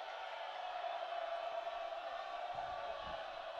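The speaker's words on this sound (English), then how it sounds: "Crowd gets revved up here" Steady crowd roar fills a college soccer match between Maryland and Virginia Tech at Ludwig Field, a broad continuous swell with a few low thumps near the end.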